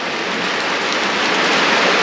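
Steady rain falls outdoors on a rural property, a dense even hiss that holds at constant loudness for the full two seconds, with no voices.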